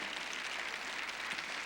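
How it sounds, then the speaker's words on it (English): An audience applauding Mike Jones at a 2012 campaign event for a state representative seat: a brief, steady, distant wash of clapping hands with no voices. "Give a round of applause to Mike Jones."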